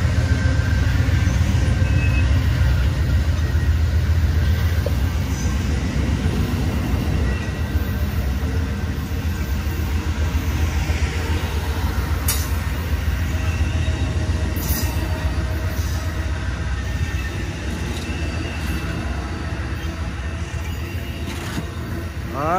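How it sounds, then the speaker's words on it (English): The Amtrak Coast Starlight passenger train departs Oakland Jack London Square station, rolling steadily past with a continuous low rumble and rattling wheels, plus occasional squeals and clicks, sustained and fairly close throughout. "The Lake Coast Starlight train is on its way to Los Angeles."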